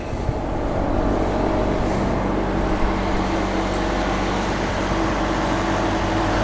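An old Mack lorry engine idles at a vintage lorry meet, a steady loud low rumble that holds without pause and has no talk over it.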